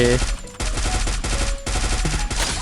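Rapid bursts of automatic gunfire crack out loud and close in a shooting video game, coming in several fast volleys separated by brief pauses.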